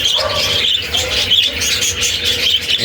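A pet parakeet with an injured foot gives repeated bright chirps and squawks in short bursts, fairly close and alone, with no talking.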